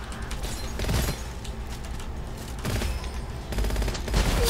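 Shotgun blasts and other weapon fire ring out in a busy first-person shooter, with several loud, punchy shots and clattering mechanisms layered over dense in-game action and no talking.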